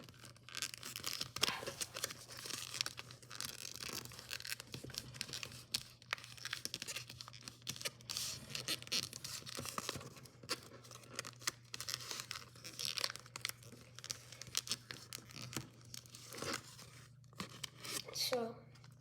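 Paper being folded and creased by hand, with continuous crinkling and crisp rustling strokes throughout, close and moderately loud, beneath a steady low hum.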